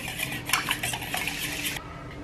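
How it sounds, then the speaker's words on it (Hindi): A spoon scrapes and clinks briskly around a bowl while bread pudding ingredients are mixed, quick irregular stirring that stops abruptly near the end. "और इन सब चीज़ों को अच्छे से मिक्स कर लेंगे।"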